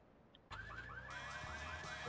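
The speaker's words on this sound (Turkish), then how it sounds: "Oha alarmı varmış." A car alarm goes off in Grand Theft Auto III, blaring suddenly and loudly after a quiet moment, with a warbling, rising-and-falling electronic wail that carries on unbroken to the end.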